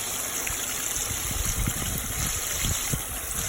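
Water trickles and splashes steadily through a koi pond filter shower packed with filter media, a continuous close bubbling wash with a faint pump hum beneath.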